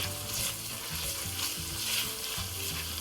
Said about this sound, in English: you're going to saute these ingredients for about another 5 to 7 minutes, or until they're browned